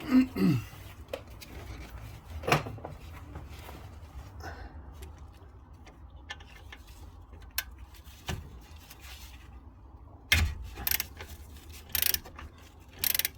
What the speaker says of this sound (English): I'll be going in there with my ratchet to loosen off